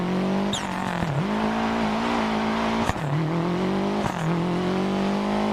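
A rally car in a digital rally video game drifts through a corner with the handbrake held too long, its engine droning steadily at high revs with brief pitch dips and short bursts of tyre scrub, loud and close throughout.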